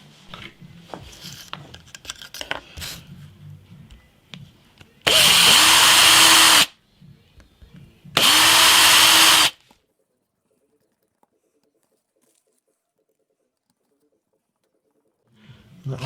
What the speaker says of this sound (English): I've drilled holes through this board in places where it won't affect the electronics